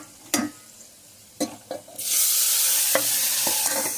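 Colocasia leaves dropped into a hot pan of tempering, a few sharp clatters of the spoon and pan, then a sudden loud, steady sizzle that carries on close with stirring knocks.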